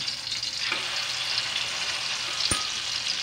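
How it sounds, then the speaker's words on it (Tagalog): An eggplant omelette (torta) fries in a pan, a steady bright sizzle throughout with a couple of brief scrapes and knocks as it is turned. "baliktarin pa natin ulit para makuha natin yung pinaka-brown or yes, para matosta ang ating torta."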